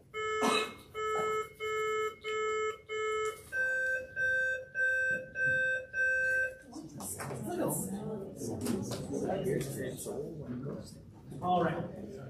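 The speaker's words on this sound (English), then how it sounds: "Test buzzers." Quiz competition buzzers tested one after another at a high school scholastic bowl state championship: a string of bright, steady electronic tones, each about a second, a second different pitch, then a noisy room of chatter and movement.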